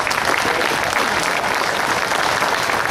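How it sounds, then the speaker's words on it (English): A crowd at a political rally applauds Al Mickle, a former congressional candidate, with a thick, even roar of clapping that holds steady throughout at close, loud level. "Give Al a round of applause"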